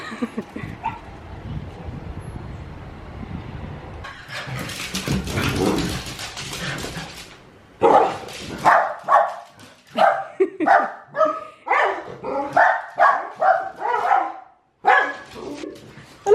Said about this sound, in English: Dogs are happy to see each other.